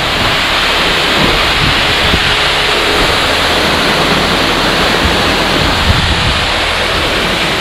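Kabaragovidola Falls in Sri Lanka's Western Province pours with a loud, unbroken roar of falling water, heard up close and steady from start to finish, with no one speaking.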